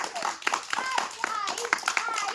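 Children at a cotton-candy eating game clap in a few scattered, uneven bursts while an adult voice keeps talking over them.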